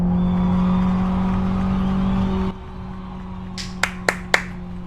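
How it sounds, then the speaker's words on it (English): A low-quality MP3 of an audience clapping in the 2003 racing sim Live for Speed. A steady car engine drone cuts out, then a few sharp claps ring out. "There's actually a low quality MP3 file of an audience clapping."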